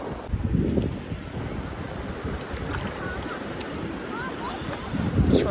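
Strong sea waves roll in at a beach, a loud continuous wash with rumbling surges at the start and end, blurred by wind buffeting the microphone as people talk nearby.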